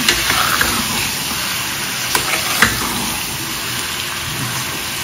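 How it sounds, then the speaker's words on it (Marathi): Squid frying in masala in a pan, a steady close sizzle with faint stirring clicks and a couple of brief scrape accents. "आता आपण याच्यामध्ये माकली टाकूया. चांगली परतून घेऊया."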